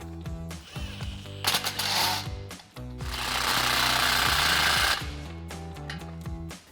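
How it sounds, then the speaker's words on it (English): 15mm socket on an impact tool tightening the exhaust pipe clamp of a Flowmaster Outlaw Extreme single exhaust on a Ford F-150 EcoBoost, loud close hammering rattles in several bursts, one long burst in the middle. "grab a 15mm socket to tighten down your clamp"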